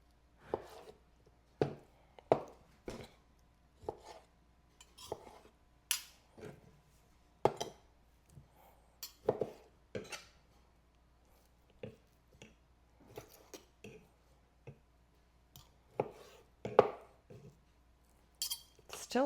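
A knife chops food on a cutting board, used while making gluten-free dinners; crisp, irregular knocks come close and clear, a steady series of separate strokes with short pauses between them and no talk over them.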